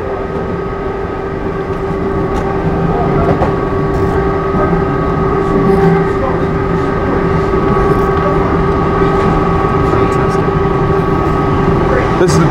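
A London Underground 1938 Stock train running on open track makes a steady, loud rumbling drone with a sustained motor whine and faint rail clicks, continuous throughout without pause.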